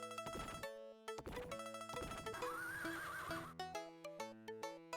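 A synthesized horse whinny from the video game Crystal's Pony Tale, bright and rising over busy chiptune-style game music and blips, loud and prominent without any talking.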